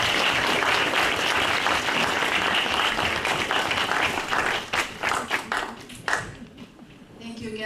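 An audience at a county candidates forum applauds the candidates, a full, loud round of clapping that thins toward the end into scattered individual claps, with some voices murmuring underneath.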